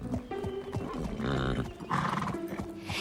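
A pony being ridden gives a loud neigh and snorts, with hoof thuds and movement close by and no talking.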